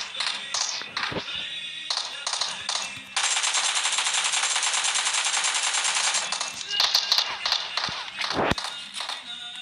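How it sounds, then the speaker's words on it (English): Video game machine gun fire rattles out in a long continuous burst after scattered shorter shots, loud and close, with a voice talking over parts of it. "let me use my last mag against this dude"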